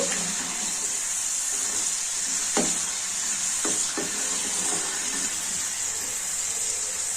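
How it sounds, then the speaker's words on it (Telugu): White peas frying in oil over a medium flame, a steady close hiss of bubbling oil with a few sharp clicks and taps from stirring. "కొంచెం తగిపోయినాక నిదానంగా వేయించుకోండి మీడియం ఫ్లేమ్ పెట్టుకొని"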